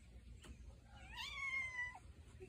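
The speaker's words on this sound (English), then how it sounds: "What you meowing for, huh?" A cat at a bird feeder lets out one drawn-out meow with a rising then falling pitch, fairly close, over steady low outdoor rumble, with no talking.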